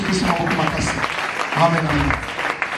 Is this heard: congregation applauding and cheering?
yes